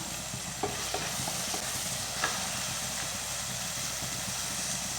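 Coriander and mint leaves stirred and frying in a pan with onions for a green bean kurma: a steady close sizzle with a few soft scrapes of the spoon, no talking.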